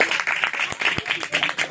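A church congregation bursts into loud, sustained applause during an Urdu-language worship service, with dense clapping filling the whole stretch close by and a few sharper individual claps standing out.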